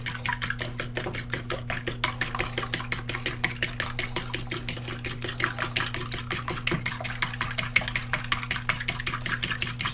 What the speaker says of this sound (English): Gonna beat these eggs just a little bit.